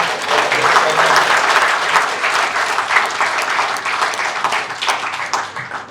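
A large audience at a finance panel at Sapience 2022, Great Lakes Institute of Management, gives loud, sustained applause, a thick wash of clapping that stays strong for about six seconds and eases slightly at the close.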